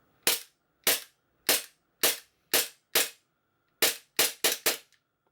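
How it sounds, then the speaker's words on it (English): A Tokyo Marui Glock 18C gas blowback airsoft pistol fires about ten sharp, close shots. Six spaced single shots come first, then a quicker run of four near the end, with no talking. "Now, I'm just gonna fire it until it does that lock."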